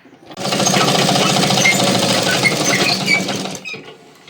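A sewing machine runs a double line of stitching along a saree fall, giving a fast, steady mechanical rattle that runs for about three seconds and then stops, recorded close up.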